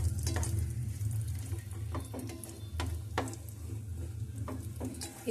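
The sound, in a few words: frying rava in ghee on low flame for rava kesari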